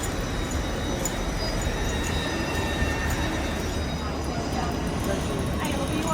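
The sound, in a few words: train arriving at station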